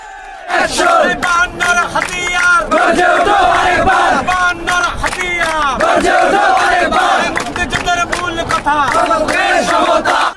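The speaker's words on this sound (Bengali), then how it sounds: "কোটা প্রথার বিরুদ্ধে বিভিন্ন প্রতিবাদী স্লোগান দিতে শুরু করে আন্দোলনরতরা" Protesters at a Bangla Blockade sit-in in Patuakhali chant slogans against the quota system, a loud crowd of voices shouting in rhythmic call-and-response, close and continuous.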